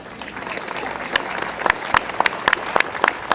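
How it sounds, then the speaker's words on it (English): Polite, appreciative applause ripples from the golf gallery around the 18th green at the Portland Classic, scattered claps building and sharpening into a steady patter with no one speaking. "a polite applause, appreciative applause from the gallery here"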